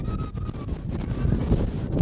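Strong wind buffets the microphone outdoors, a loud, continuous low roar with gusty swells, no voices.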